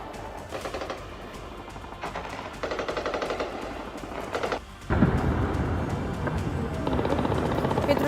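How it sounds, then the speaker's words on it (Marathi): Explosions and rapid gunfire during a night attack in Peshawar, from news footage: dense crackling bursts in a continuous noisy barrage, with a sharp louder blast near the midpoint and sustained heavy rumble afterward, no speech. "रात्रीच्या वेळी हे स्फोटांचे आवाज येत होते, गोळीबाराचा आवाज येत होता"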